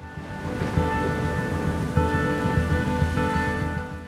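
Steady, heavy rain hisses across the whole stretch, with low rumbling thunder rolling beneath it and swelling twice. It plays as a dense, close sound effect with no voices.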